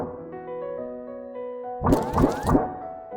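Papery Paper Mario–style sound effect built from a bacon tin and plastic sheets: three quick crinkly, boingy hits in a row, following a stretch of sustained tonal music.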